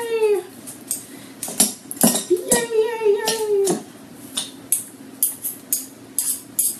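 A metal fork clinks and scrapes against a dish while mashing food for loaded chicken nachos, a string of sharp taps and scrapes, close and fairly loud, with a higher voice or squeal heard in between.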